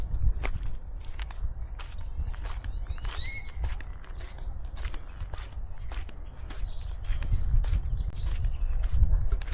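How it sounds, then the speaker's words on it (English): Birds chirp and sing in a rural backyard garden with chickens, dogs, banana trees and corn, their short calls scattered over steady low ambient noise and footsteps, with no talking. "I don't know if you can hear those birds singing."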